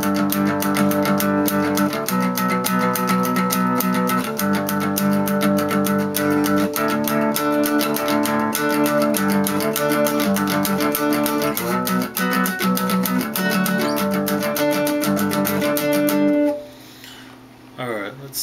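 Electric guitar strums the chorus of a song in a full, distorted, steady rhythm of sustained chords that cuts off sharply near the end, leaving a brief quieter tail.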